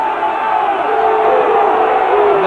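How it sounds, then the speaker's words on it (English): A large rugby crowd at a Cornwall match roars and cheers in a dense, loud, unbroken wall of voices. "crowd really trying to lift the Cornish back to win possession here"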